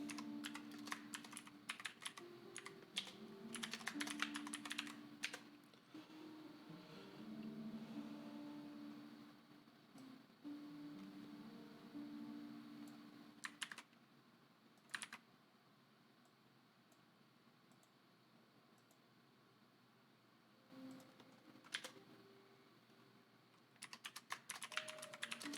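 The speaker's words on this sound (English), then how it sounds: "If I could put my fingers on the keyboard properly." Computer keyboard typing runs in irregular bursts of clicking keys up close, with short pauses between runs and no voices.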